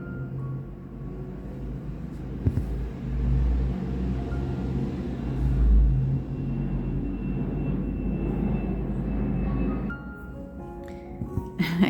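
Airplanes pass overhead outside while trucks travel the street. Both form a low, distant rumble that swells and fades over several seconds, with faint voices underneath.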